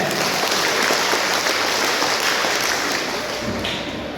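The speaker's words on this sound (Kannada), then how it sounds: "ನಿಮ್ಮ ಕೈಯಿಂದ ಒಂದು ಜೋರಾದ ಧನ್ಯವಾದ ಚಪ್ಪಾಳೆ" An audience claps in thanks at a public gathering, a dense steady round of applause that stays loud and even throughout before easing slightly near the end.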